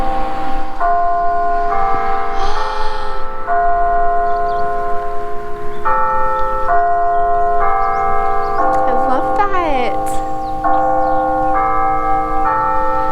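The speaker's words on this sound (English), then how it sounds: "I hope that bell was able to get on the video, because that was beautiful." A church bell rings repeatedly in a steady, resonant pattern of clear tones, loud and close, while a person speaks briefly over it near the end.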